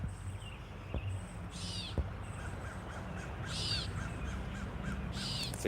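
A catbird in a garden gives three harsh, nasal mewing calls, spaced a couple of seconds apart, over a steady low outdoor hum.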